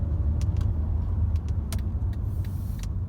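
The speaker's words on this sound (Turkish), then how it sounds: "Kompresör ses sürekli aracın içine geliyor." Steady engine drone heard from inside a moving 2nd-generation Mercedes C180 with a supercharged 1.6 engine and five-speed automatic, a low rumble with a faint supercharger whine over it and a few light clicks.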